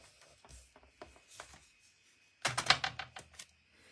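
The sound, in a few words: cutting along grooves with a small blade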